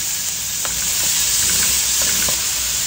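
Ginger and onion sauté in a little oil in a pan, giving a loud, steady sizzle and hiss with a few soft stirring scrapes on top.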